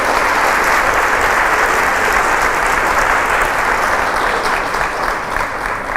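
Loud, sustained applause from an audience at a priest's religious talk forms a steady, thick roar of clapping for six seconds, easing only slightly near the end.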